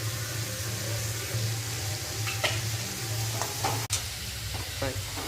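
Green chillies, capsicum and carrot fry in a pan with a continuous close sizzle, broken by a few scraping stirs and clinks.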